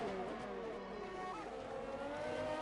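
Race car engines roar steadily in a racing video game on the Canada circuit as one car overtakes another using DRS, a continuous, loud, close engine drone with a rising pitch sweep and no talk.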